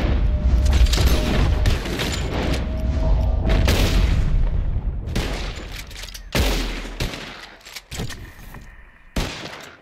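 Gunfire in the Red Dead Redemption video game as shooters aim at flying birds: a dense burst of shots at first, then spaced single loud cracks with quieter gaps between them.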